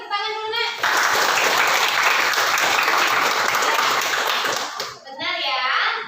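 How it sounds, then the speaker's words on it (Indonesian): A classroom of children bursts into applause for a classmate during a dance lesson, dense clapping in the middle with a voice heard just before and after. "Ya, beri tepuk tangan dulu nak."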